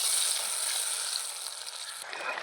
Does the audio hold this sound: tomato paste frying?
yes